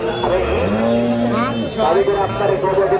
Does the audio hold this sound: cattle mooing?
yes